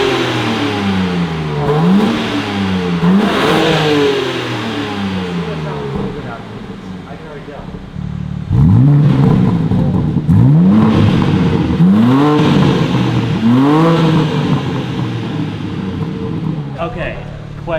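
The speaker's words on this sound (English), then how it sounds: "we are going to do some clips of the stock exhaust before" A stock-exhaust BMW G80 M3 Competition revs hard several times close by, each blip rising and falling sharply, with a pause at steady idle between sets and voices talking faintly.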